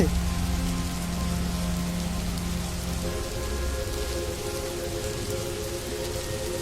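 Heavy storm rain pours down at a steady loud level throughout, a dense continuous hiss with faint tonal background hum.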